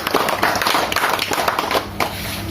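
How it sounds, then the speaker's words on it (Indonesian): A seminar audience claps for the next presenter at a talk on nano technology for raising crop production, a thick, continuous patter of many hands at an even level that dips briefly near the end. "Beri tepuk tangan dulu Bapak Ibu."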